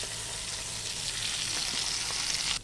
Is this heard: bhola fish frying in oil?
yes